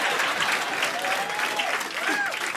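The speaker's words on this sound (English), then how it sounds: "clap for my father" A comedy-club audience breaks into dense, steady applause during a stand-up set, the clapping loud and continuous while a voice carries on over it.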